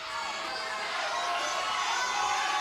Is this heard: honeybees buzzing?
no